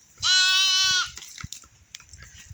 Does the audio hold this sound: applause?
no